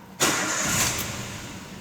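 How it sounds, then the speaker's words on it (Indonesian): A car engine cranks and catches abruptly during a scan-tool diagnostic check for a starting fault, then runs briefly at a steady idle, close and fairly loud. "kita lakukan starting pada kendaraan"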